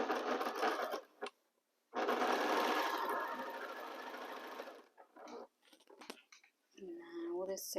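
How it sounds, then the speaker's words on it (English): A sewing machine joins quilt rows with nested seams, whirring in a long, steady run and a couple of shorter bursts, close and clear, with a voice speaking near the end. "I nest here my seams and start sewing."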